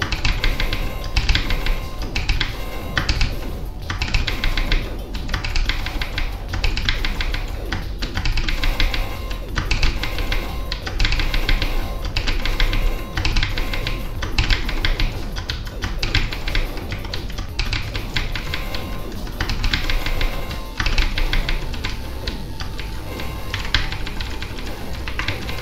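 A computer keyboard being typed on rapidly during intense gaming, with a dense, steady clatter of keystrokes close to the microphone and a constant hum beneath it.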